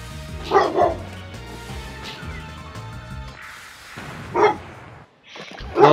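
Dog barking indoors at nothing while the Pokemon Rumble WiiWare game plays its music and effects; several loud, close barks come in bursts over the steady game sound.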